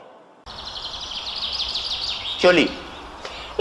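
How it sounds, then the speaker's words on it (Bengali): Birds singing at dawn in an audio drama: a continuous run of bright, rapid chirps and trills from close by, with a short spoken word and a louder burst of sound near the end. "পাখিরা জেগে গেছে"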